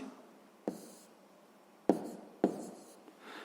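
Pen writing a maths solution on paper, in short scratchy strokes separated by pauses, close and fairly faint in a quiet room.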